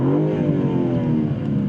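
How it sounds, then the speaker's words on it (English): BMW M3 CS engine revving through its exhaust, a loud, close, steady rising engine note filling the whole moment with no talk. "A little exhaust rev."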